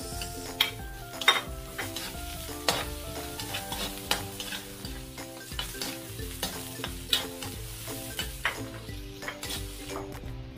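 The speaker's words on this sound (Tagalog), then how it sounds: "Isama natin sa pagigisa para lumabas po at ma-extract po ng oil yung ating mga aromatics" Garlic, onion and ginger sauté in hot oil in a pan with chilies about to join, a steady close sizzle broken by repeated sharp clicks of a utensil stirring against the pan, with no talking.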